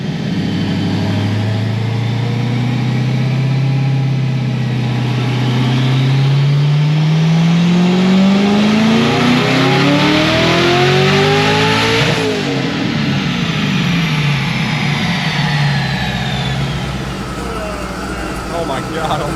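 A twin-turbo LSX-swapped Porsche engine revving hard during a dyno pull, the roar climbing steadily in pitch to a peak, then easing off, loud and close throughout.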